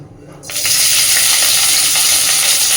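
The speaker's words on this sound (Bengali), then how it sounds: "তেল গরম হয়ে গেছে আমি প্রথমেই তেলের মধ্যে দিয়ে দিচ্ছি বেশ খানিকটা কাঁচা লঙ্কা কুচি" Chopped green chillies dropped into hot oil in a pan: a brief quiet moment, then a sudden loud burst of sizzling that settles into a steady, close crackle with no talk.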